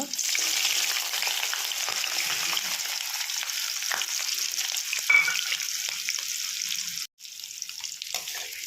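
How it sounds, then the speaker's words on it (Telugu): Green chilies and ginger fry in hot oil for a chutney, a steady close sizzle and hiss with light stirring scrapes, briefly cutting out near the end before resuming. "ఇప్పుడు పచ్చిమిర్చి అల్లం వేసుకుందామండి దీంట్లో"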